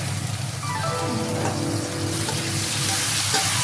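Pork, onion, carrot and potato stew sauce bubbling and sizzling steadily in a pan with a constant close frying hiss, no voices.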